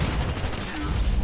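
Rapid bursts of Chopper LMG fire in Call of Duty Mobile ring out continuously, loud and dense, over game effects in a multiplayer match.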